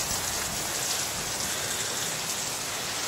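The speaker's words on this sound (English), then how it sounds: "today the rain has been a little on the heavy side." Heavy rain falls steadily outside a house, a continuous dense hiss of drops with no other sounds.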